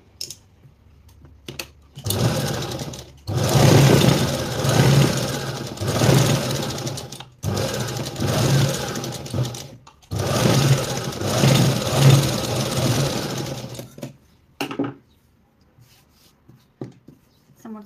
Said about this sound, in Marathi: मी ना डायरेक्ट स्टिच करणार आहे बारीक टाक्याच्या शिलाईला.